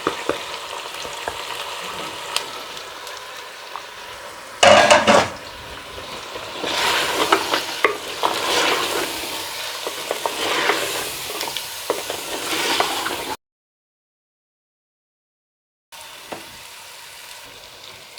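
Mutton with turmeric and ground coriander stir-fried in a pot, a steady close sizzle with scraping stir strokes and a loud burst near the start, then a stretch of silence before the frying resumes.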